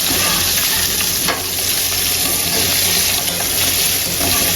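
Chicken popcorn fries in hot oil over a medium flame, giving a dense, loud, continuous sizzle with no voices.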